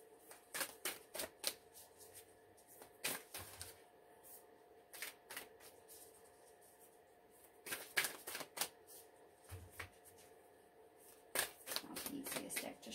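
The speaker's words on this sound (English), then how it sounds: "It's not the easiest deck to shuffle because it's oversized." An oversized tarot card deck is shuffled in bursts of sharp riffling clatter, close and fairly loud, with short pauses between rounds and no talk.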